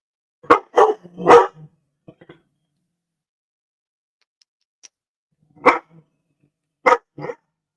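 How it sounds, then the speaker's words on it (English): A dog barks in several sharp bursts, a quick cluster at first, then a pause before a few more loud barks nearby. "I got a barking crazy dog right now."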